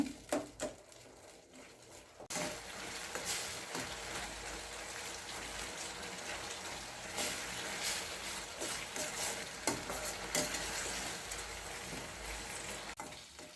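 Tomatoes with rock salt sauté in oil for a Chettinad-style bitter gourd kuzhambu, making a faint, steady crackling sizzle with light stirring, quieter at the start.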